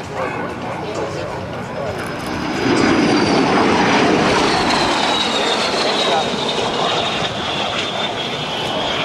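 L-39 jet aircraft at an airshow pitching up to land, heard as a steady, fairly loud roar that swells midway and holds while a person talks over it.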